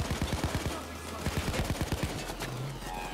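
Rapid automatic gunfire during a PayDay 2 heist, a fast run of sharp, evenly spaced shots rattling close and loud, briefly easing and then resuming, with a short tonal beep near the end.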